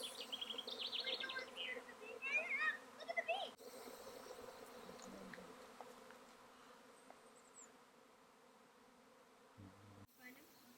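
A swarm of honey bees buzzes steadily at moderate distance outdoors on rural land, the droning hum continuing throughout with faint bird calls and brief handling noises.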